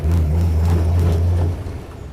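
A restored Kaiser Darrin convertible's engine drones loud and close with a deep, steady low rumble for about a second and a half, then quickly fades away.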